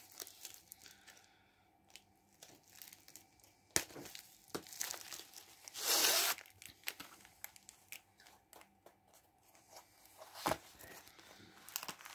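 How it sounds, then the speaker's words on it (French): Close rustling and crinkling as tape is cut and a diamond painting kit's packaging is handled and torn open, with scattered sharp snips and rips and a louder burst of tearing midway. "je vais couper le scotch, ce sera plus simple"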